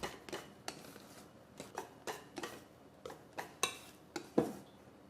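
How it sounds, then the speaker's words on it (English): Beaten egg whites being whisked into an egg yolk batter in a bowl, with a quiet, irregular series of clinks and taps from the whisk against the bowl, about a dozen strokes, close and unaccompanied by voices. "Use a whisk to mix it in."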